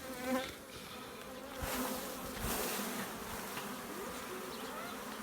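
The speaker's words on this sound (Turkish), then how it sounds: "Babamın oğul verecek deyip söylediği arı." Honeybees from a colony about to swarm fill the air with a dense, steady buzz, close and continuous, with individual bees swelling louder as they pass near.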